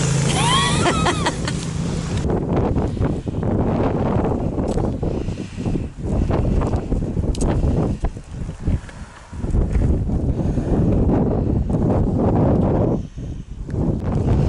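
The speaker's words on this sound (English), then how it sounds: "It's windy!" Strong wind on a hilltop along the West Highland Way buffets and roars across the microphone in uneven gusts, loud and continuous, with a brief lull partway through.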